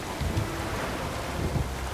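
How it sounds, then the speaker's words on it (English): A thunderstorm with rain in the video game The Witcher 3: steady rain hiss runs throughout while low thunder rumbles swell twice, loud and close, with no talking. "I don't want to dive in this thunderstorm"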